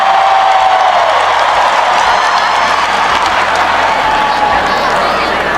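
Teachers fill a hall with loud, sustained enthusiastic applause, dense clapping mixed with crowd cheering, close and continuous from start to finish.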